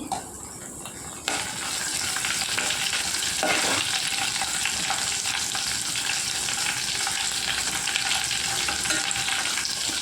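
Ten garlic cloves dropped into hot oil with mustard seeds for bottle gourd dal, breaking into a loud, close, steady sizzle that continues unbroken after a quieter start; no talking.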